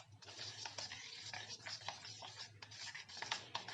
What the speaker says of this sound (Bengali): এইভাবে আমি ভাতের পেস্ট আর ওটসটাকে মিশিয়ে নিয়েছি